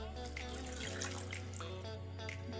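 Water, 200 ml, poured into a pot on the stove for choux pastry with guanciale and cheese, a soft trickling splash over a low steady hum, faint and close.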